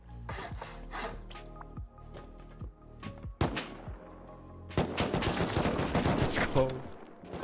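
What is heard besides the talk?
gunfire in the video game Rust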